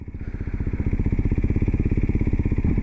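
A Kawasaki Z125 motorcycle engine chugs in a steady, rapid pulsing beat as the clutch lever is eased out and the bike creeps forward, loud and close, with the rhythm firming up after a brief softer start.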